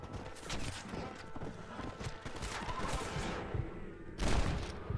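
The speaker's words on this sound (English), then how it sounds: "I think they just shot each other." Enemy gunfire in Red Dead Redemption, a dense crackle of shots through a noisy outdoor skirmish, with a louder burst near the end and brief voices in the mix.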